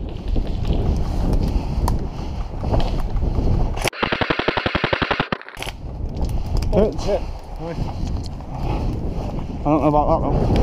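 An airsoft gun fires a rapid burst of automatic shots during a woodland game, loud and close, amid wind noise and players talking before and after.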